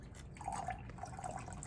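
Fresh water drips into salt water in a classroom demo of melting glaciers mixing into the ocean, giving a quiet, steady trickle of small drops and splashes close by with no talking.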